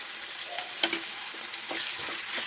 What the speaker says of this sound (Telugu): అవి కూడా సేపు ఇందులో వేస్తే ఆయిల్లో ఫ్రై అవుతాయండి